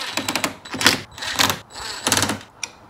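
A nut turns on a bolt through a plastic bracket with a lock washer, making several close bursts of rapid ratcheting clicks separated by short pauses, with no talk.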